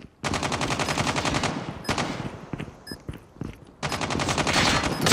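Rapid automatic gunfire in a Call of Duty match, loud sustained bursts with a short pause and scattered single shots in between, then another long burst.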